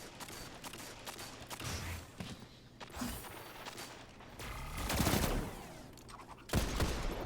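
Video game gunfire rattles in uneven bursts as the player is shot, fairly quiet overall, mixed with mechanical clicks and creaks and swelling louder toward the end.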